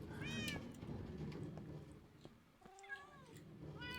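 Minecraft cat meows twice, a rising cry near the start and another later, moderately close over a steady busy game background of rumble and clicks.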